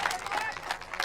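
Crowd applause for strongman Bob Weir at the 1997 World's Strongest Man contest, a steady wash of clapping from a large audience lasting about a second.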